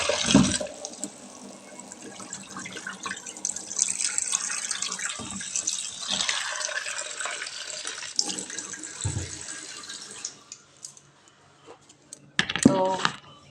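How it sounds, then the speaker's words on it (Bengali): Vegetables are washed under running water, with a continuous splashing flow from a tap and sporadic clattering as they are handled, ending with a brief louder splash. "এই সবজিগুলোকে ভালো মতন জলে ধুয়ে নিচ্ছি।"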